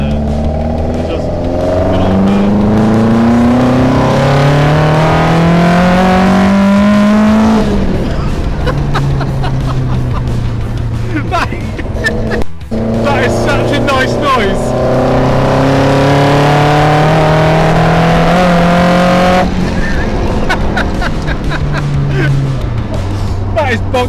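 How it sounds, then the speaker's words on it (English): Modded Ford Cortina Mk3 estate revving hard through its throttle bodies, a loud growling engine rising and falling in pitch over repeated throttle sweeps, with a brief drop mid-way and people talking over it. "That's not rattly car old noisy, that is awesome fast engine noisy. That makes a hell of a growl, mate."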